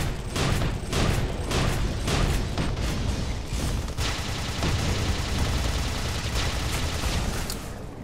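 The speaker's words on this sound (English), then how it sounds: "Somebody shot a nuke at me. Thumper." Thumper shots and explosions in the shooter game Tribes Ascend come as a dense, loud barrage of booming blasts and crackling gunfire that continues without pause.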